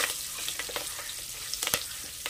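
Curry leaves sauté in hot oil for a field beans pulao, a close, busy sizzle with quick crackling spits and pops over its whole short length.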